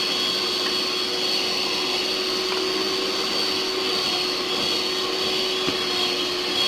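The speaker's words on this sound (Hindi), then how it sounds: "1 अंडा डालेंगे, इसको बीट करेंगे।" A handheld electric beater whirs steadily as it beats an egg into creamed butter and sugar for a chocolate cake batter, a loud, even motor drone running without pause.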